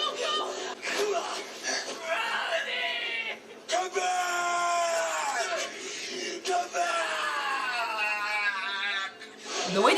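Screams from a scene in the TV series Vikings, anguished high voices rising and breaking over music, loud and continuous through the passage, with brief dips between cries.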